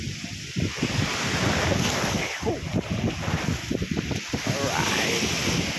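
Strong ocean waves crash and churn under heavy wind buffeting the microphone, a loud, continuous roar with surging swells, while a voice talks intermittently over it.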